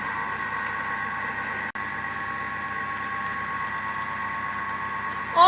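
A Thermomix food processor blends at speed 3 while making raspberry financier batter, giving a steady, even motor whir with a constant tonal hum that runs unbroken for several seconds.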